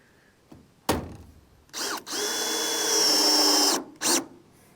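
A cordless drill with a torque setting whirs in short bursts, then runs in one longer, steady whine while driving roofing screws into metal roofing panels, ending with another quick burst.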